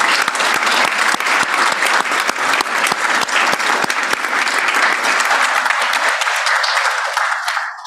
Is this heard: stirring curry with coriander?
no